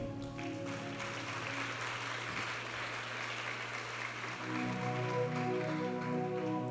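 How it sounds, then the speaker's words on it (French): Applause at a youth forum event in Port-au-Prince, a sustained wash of clapping under steady tonal hum and faint background voices, continuing evenly and swelling slightly toward the end. "Et on l'autre applaudissement pour Kenley, qui lui-même qui organise l'activité."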